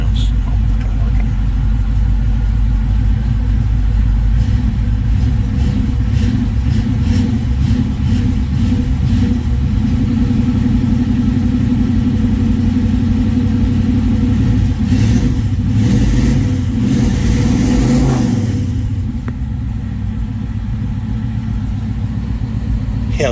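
A 1970 Chevelle and a 1971 C10 cold start, the V8 rumbling loud and close with repeated revs rising and falling before settling into a quieter idle, voices talking over parts of it.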